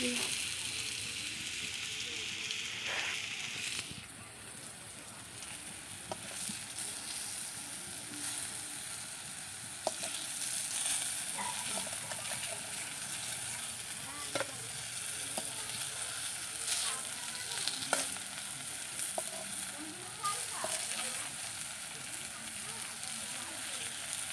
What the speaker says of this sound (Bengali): দেখো এখানে হচ্ছে মা কুমড়ো ভাজতে দিয়েছে এখন